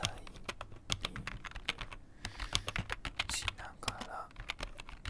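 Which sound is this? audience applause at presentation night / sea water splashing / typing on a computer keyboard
typing on a computer keyboard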